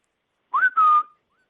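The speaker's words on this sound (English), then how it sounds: "Transatlantic delay does not dampen the thrill of hearing the whistle." A person whistles over a transatlantic phone line, a single short rising-then-level tone of about half a second, loud and alone with a small break in the middle and silence around it.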